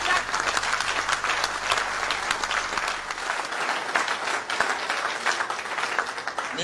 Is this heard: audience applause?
yes